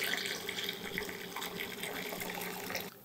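Cold tap water running steadily into a home-brew beer pot, a continuous close splashing hiss that cuts off near the end.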